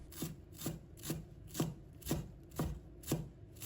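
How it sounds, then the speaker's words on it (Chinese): A knife chops a bunch of fresh cilantro into short lengths on a cutting board, striking in a steady rhythm of about two sharp, close chops per second with no talking. "把它切成小段"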